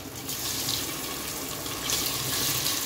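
Boiled potato pieces hiss in hot oil with a loud, steady, close sizzle that swells slightly toward the end.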